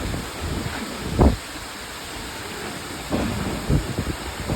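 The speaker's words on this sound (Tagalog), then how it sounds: "grabe jud pud kakusog sa hangin" Strong wind roars steadily with a couple of louder gusts sweeping through, close and broadband, with no voices.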